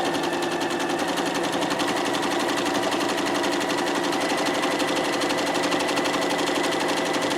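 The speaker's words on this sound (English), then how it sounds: "I'm actually keeping the foot on the stitching line, and then I'm sure the needle's not going to jump over it" A sewing machine runs steadily while stitching a pillowcase seam, giving a continuous, even, rapid mechanical chatter that stays loud and close throughout.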